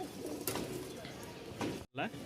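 Giribaz pigeons in Rajshahi coo softly nearby in a few low, throaty calls, with a brief drop to silence near the end before the cooing resumes.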